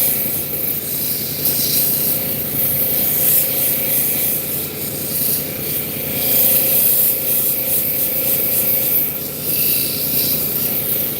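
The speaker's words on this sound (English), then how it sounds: "this agate that we're polishing, this is a Lake Superior agate" Lake Superior agate being polished, a continuous harsh rubbing and grinding scrape with wavering intensity, close and loud for over ten seconds with no talk.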